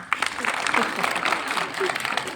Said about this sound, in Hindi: अब बलून के लिए तालियां हो जाएं।